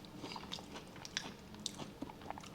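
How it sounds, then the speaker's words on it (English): Someone chews crunchy unripe peaches up close, soft repeated bites and crisp crunches at a low level with no speech. "Peaches are good, but they're definitely not ripe enough. They're a little crunchy, but it's all right."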